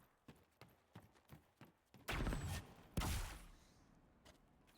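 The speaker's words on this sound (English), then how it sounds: "You're making the sound a fucking horse makes, but you're a goat ram thingy thing." Hoof-like clip-clop footfalls of a goat-ram mount in the video game Dragon Age Inquisition, a steady series of light clops followed by two louder, longer thumping bursts near the middle.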